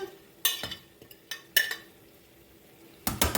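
Cabbage tumbling into a pot, heard as a few separate clattering, rustling thumps with quiet gaps between, ending in a louder burst of contact with the pot.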